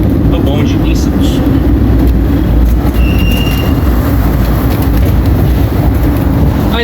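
A historic open tram rolls through Santos, Brazil, a loud, continuous rumble of wheels on rails with a brief squeal of metal, while a voice talks over the ride.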